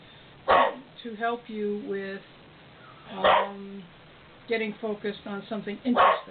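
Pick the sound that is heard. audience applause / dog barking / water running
dog barking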